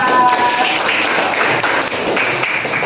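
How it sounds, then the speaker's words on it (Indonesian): A classroom of students applauds a student group after its presentation, a steady, loud wash of dense clapping that continues without pause. "tepuk tangan untuk kelompok 4"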